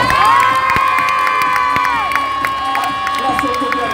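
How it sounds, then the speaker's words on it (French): A crowd at a film screening in Lyon Brignais cheers loudly for the director, with children shouting and screaming in a dense, sustained roar that fills the whole moment. "Applaudissements s'il vous plaît pour le réalisateur du film."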